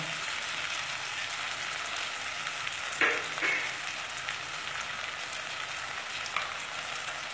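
Spices sizzling and frying in a pan for chickpea curry, a soft, steady crackle with a couple of brief stirring clatters partway through.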